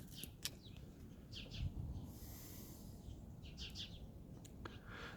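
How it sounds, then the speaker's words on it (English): Outdoors in the Midway area of St. Paul, several short bird chirps and tweets come and go over a steady background hum, fairly faint, with no talking. "And birds come through, some birds."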